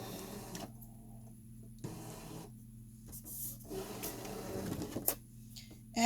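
A Brother ScanNCut cutting machine loads a mat and begins scanning, giving quiet mechanical whirring and short motor runs broken by brief pauses, close up in a calm room.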